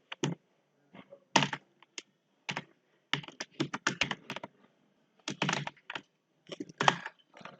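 Typing on a computer keyboard while writing an HTML comment: bursts of close, crisp key clicks in irregular clusters, separated by short pauses, with no talking.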